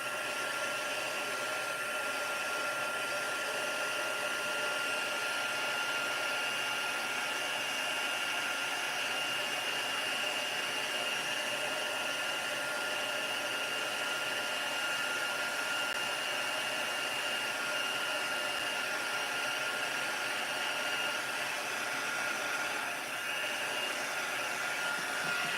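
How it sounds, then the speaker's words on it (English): A crafting heat tool blowing hot air, a loud continuous whooshing roar with a steady fan whine that holds almost unchanged from start to finish, with no speech over it. "heat tool, and if you don't like loud noises, close your ears. And I will heat this up."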